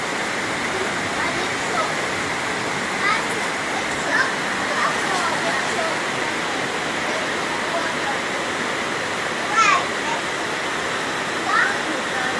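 Flood water rushes across a road in St Catherine, Jamaica, a loud continuous roar of churning water with faint voices and a few brief sharp sounds above it.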